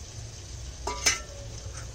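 Chicken feet hit a hot pan in a home curry kitchen, giving a low steady sizzle with a brief louder burst and a clink of utensil, no voices.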